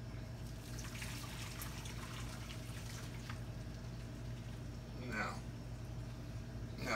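Water trickles steadily into a cooking pan while smothered pork is being made, a soft, low pour partly buried under a constant kitchen hum.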